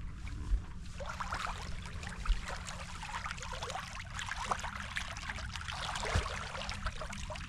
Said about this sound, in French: Juste à entendre le bruit de l'eau ruisseler le long de la côte.